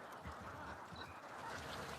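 Ducks raised by a farmer in a rice field quack and honk together in a continuous, faint, busy outdoor chorus.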